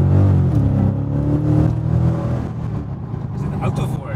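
A supercharged SRT car engine accelerates with a loud, close rising roar and whirring whine that swells and eases over a few seconds, with people talking over it.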